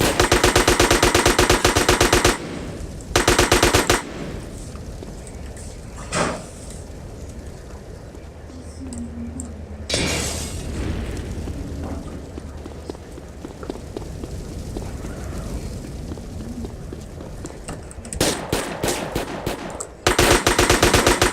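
Bursts of rapid gunfire from the video game GTA San Andreas, loud automatic volleys at the start, middle and end with quieter game sounds and a lone shot between them, no talk.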